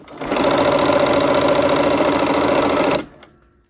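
A sewing machine stitching quilt blocks runs at a steady fast whir for about three seconds and then stops abruptly, loud and close.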